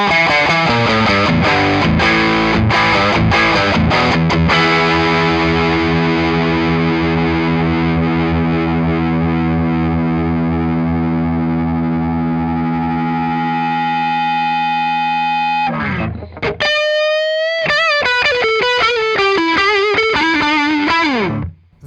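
Epiphone Zakk Wylde Les Paul Custom Bullseye electric guitar on the neck pickup, heavily distorted with effects: rapid picked notes, then long sustained chords ringing out, a brief gap and bending squealing notes, loud and close.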